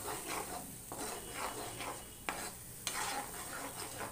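Masala for baingan ki rasedaar sabzi frying in oil in a pan, a quiet sizzle with rhythmic spatula stirring and scraping and a couple of sharp taps of the utensil.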